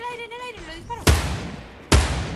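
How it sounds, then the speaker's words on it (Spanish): Gunfire in the Fortnite battle royale game: two sharp, loud shots about a second apart, each with a short decaying tail, following tonal in-game sounds and chatter. "En el aire, lo disparo."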